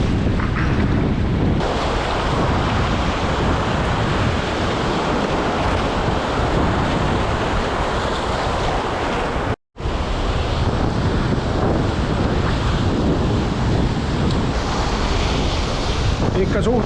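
Strong wind roars over crashing sea waves and foam on a rough coast during a day of sea trout fishing, a loud continuous wash broken by one brief dropout.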